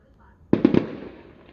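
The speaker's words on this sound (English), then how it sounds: "we now have fireworks" Three sharp, loud bangs in quick succession, followed by a crackling rumble that slowly fades, like fireworks going off close by outside.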